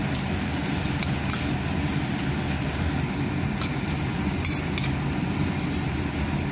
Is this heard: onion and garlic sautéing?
yes